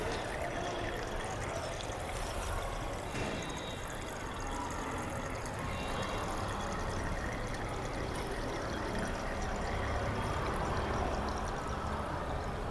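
Water trickles and pours continuously from a glass pipette being rinsed in a chemistry lab titration setup, a steady close liquid splash with no talk.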